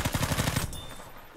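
A medic's automatic weapon fires in the video game Battlefield 5, a rapid burst of about eight close, punchy shots in quick rhythm, followed by a brief decaying tail.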